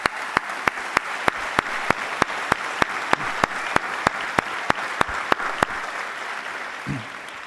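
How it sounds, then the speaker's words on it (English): An audience at a police academy graduation for Class 170 applauds steadily, with a dense crowd clapping and a sharp regular clap repeating about every third of a second up front, fading near the end. "I want to ask everyone to applaud them one more time"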